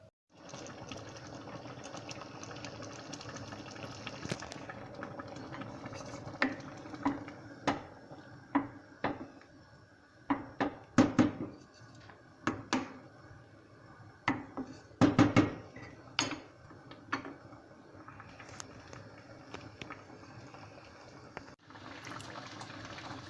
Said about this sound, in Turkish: incirlerimiz bu şekil mis gibi kaynıyor